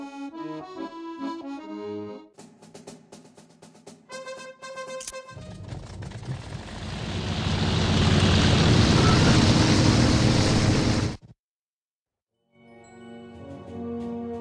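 World War I fighter planes flying in the game Wings, with a rising propeller-engine roar that swells and cuts off abruptly, framed by game music before and after.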